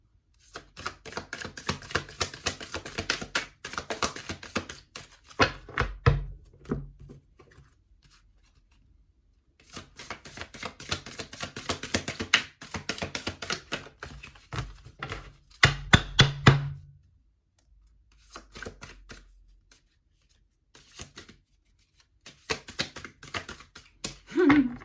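An oversized tarot deck is split and riffle-shuffled by hand, producing quick bursts of crisp card clicks and flutters separated by short pauses, close and fairly quiet.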